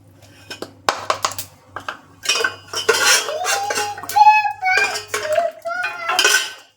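Roasted dry fruits are tipped from a pan into a bowl with a run of spoon-on-metal scrapes and clinks close by, while someone talks over the clatter.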